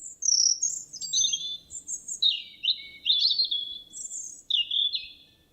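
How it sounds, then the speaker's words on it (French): A robin sings alone in a quiet setting, a run of bright, high warbled phrases and quick chirps repeating in short bursts, clear and close. "un petit oiseau à la gorge rouge qui virevoltait dans les airs autour d'elle. Il chantait, chantait encore sans s'arrêter"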